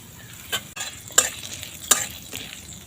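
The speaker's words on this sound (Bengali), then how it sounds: "আদা রসুন ভালো করে একটু ভেজে নেব" Ginger and garlic fry in a pan with a soft sizzle, punctuated by several sharp spatula scrapes and taps against the metal at irregular intervals.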